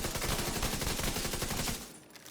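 Rapid video-game gunfire from an explosive-damage build in The Division, a dense continuous burst of shots that cuts off near the end, leaving a quieter tail.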